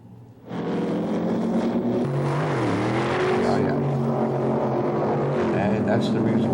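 A loud drag race car engine roars and revs steadily at a dragway, pitch dipping and climbing as it runs, with a crowd-like wash of noise behind it.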